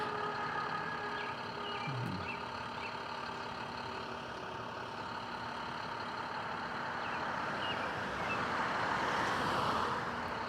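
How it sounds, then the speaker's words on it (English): A fire department truck rolls past a traffic light, its heavy engine a steady low rumble that swells louder toward the end over constant street noise. "Yeah, see? Fire department truck."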